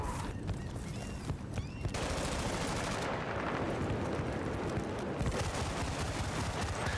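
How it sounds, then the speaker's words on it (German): Gunfire from the Battlefield: Bad Company 2 video game on the Isla Inocentes map crackles in dense bursts of rapid shots, with loud overlapping reports and brief gaps, and no talking. "wie viele Schüsse willst du noch in mich hier schießen, nachdem ich gestorben bin?"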